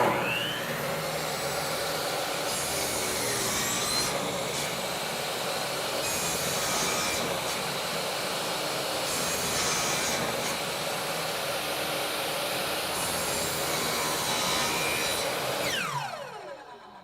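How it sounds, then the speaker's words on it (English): A saw cuts a miter through a wooden board, its steady rasping drone running continuously and loud for the whole stretch before stopping abruptly near the end. "keep dipping the blade, moving the board this way until you get to your mark, and then make the cut."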